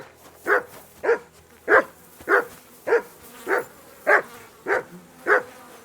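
A dog in the medieval video game Kingdom Come: Deliverance II barks about ten times in an even, steady rhythm, each bark short and close, with no talking over it.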